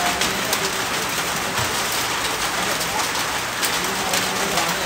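Steady rain pours down outdoors near a church during a street food outing, a dense continuous hiss of drops striking surfaces with no clear talking.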